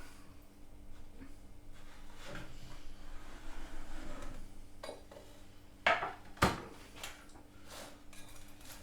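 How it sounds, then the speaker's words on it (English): A knife cuts through supermarket garlic bread in a home kitchen, giving a few scraping, crunchy strokes and two sharp knocks of the blade on the board against a low background of kitchen noise. "Let's cut the garlic bread up."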